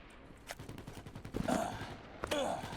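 Distant rapid gunfire from allied troops shooting ahead in Starship Troopers: Extermination, a faint rattling stream of shots with a few sharper bursts standing out.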